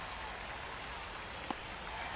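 Steady rain hisses down in MLB The Show 25 as a broad, even wash of sound, with one brief louder tap midway and no talking.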